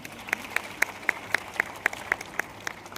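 A small audience at a road safety awareness event claps for a teacher, with sparse, fairly regular individual claps standing out over faint background murmur.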